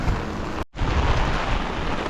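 Heavy rain pours in a constant loud roar during a storm in Paris, briefly cut off for an instant before the downpour resumes.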